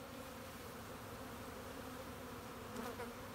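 Honey bees buzz steadily around hive frames holding capped larvae, a dense, continuous hum from many close insects with no voices over it.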